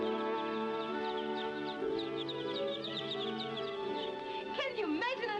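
Newly hatched chicks and hens cluck and peep among eggs, with rapid high cheeping throughout and a louder squawk near the end, heard faintly beneath a steady tonal background.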